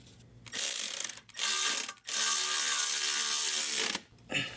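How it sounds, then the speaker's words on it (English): A ratchet tightens a nut onto a stud on a Ford E350 transmission, its rapid clicking coming in three close, fairly loud bursts separated by short pauses, with a brief fourth burst at the end. "So I'm gonna install the nut."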